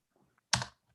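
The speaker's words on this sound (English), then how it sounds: "I'll just keep typing words." Typing on a computer keyboard during a joint policy committee meeting, a single short burst of clicks, close and moderately loud, surrounded by near silence.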